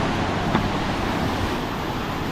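Flood water rushing at Khlong Lan Waterfall in Thailand, a steady, dense roar of churning water that fills the scene without pause.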